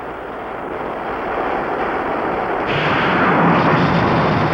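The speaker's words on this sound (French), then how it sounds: "Tu as entendu cette explosion? C'est la foudre qui a touché terre." A heavy, sustained rumble of thunder from a lightning strike, rolling and swelling louder toward the end, dense and booming with no voices.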